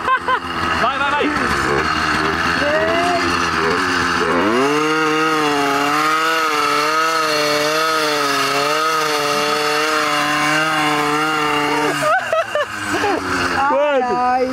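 A motorized bicycle engine, 80cc or 100cc, revs hard in a loudness contest: a loud, buzzing two-stroke whine climbs sharply, holds at high RPM for several seconds with slight wavering, then drops and blips again, with voices around it.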